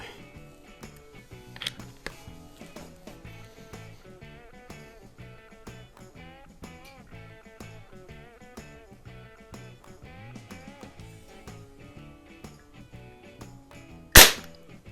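A Beeman AR2078 air rifle fires a wadcutter pellet in a single sharp, loud crack near the end, preceded by a long stretch of steady background music with a faint click early on.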